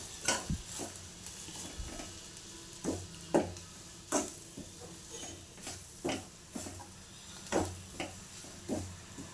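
Spiced besan masala with sugar and fennel seeds being sautéed in a pan: a steady soft sizzle under repeated scraping stirs of a spoon against the pan, roughly once every second, close by.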